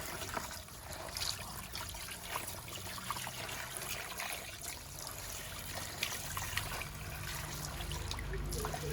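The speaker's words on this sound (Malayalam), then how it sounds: "ഒന്നുകൂടെ ഒഴിച്ചങ്ങോട്ട് കഴുകുക." Water poured steadily over tilapia fish being washed in a bowl, a continuous close trickling and splashing that runs through the whole stretch with no speech over it.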